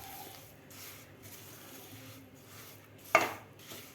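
A sesame and jaggery mixture for chikki is stirred in a pan, soft scraping strokes repeating quietly and ending in one sharper metallic clink.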